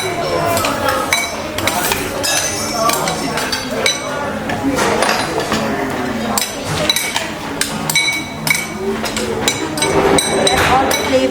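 Roasted cashew nuts being tossed with salt in a bowl in a restaurant kitchen, with steady clinking and clattering against the dish throughout, heard under busy background noise and voices.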